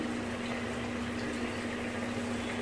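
Fish cooking plainly in a pan without mustard paste, a steady, quiet sizzle and bubble with a faint hum running underneath, no voices.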